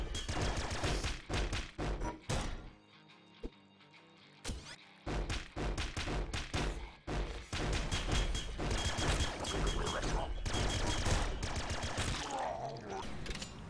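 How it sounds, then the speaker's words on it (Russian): Proton cannon firing in a Nuclear Throne mod, a dense run of sharp, punchy gunfire bursts with booming thuds and brief gaps, loud and continuous over chaotic game effects. "А вот протонная пушка с мгновенным дамагом по курсору"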